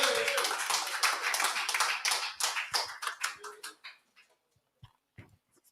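Clapping at a youth rally, a burst of quick close handclaps that thins out into a few scattered isolated claps before stopping, with faint voices in between.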